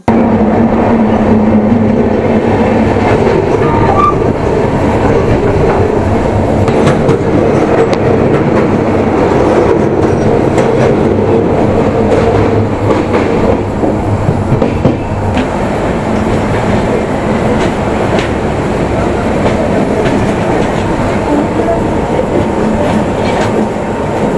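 A Vistadome tourist train running on the hill line from Visakhapatnam to Araku, with a loud continuous rumble and rhythmic clickety-clack of wheels on rails, heard from inside, with occasional faint squeals.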